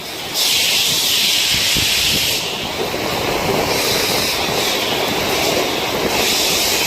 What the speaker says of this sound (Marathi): जोरदार वारा सुटलाय.